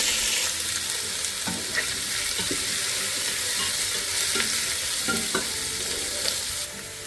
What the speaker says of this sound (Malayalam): 3 സവാള എടുക്കാം, മീഡിയം സൈസ്, 2 പച്ചമുളക്, കുറച്ച് കരിവേപ്പില ഇതെല്ലാം കൂടെ ചേർത്ത് നമുക്ക് മിക്സ് ചെയ്യാം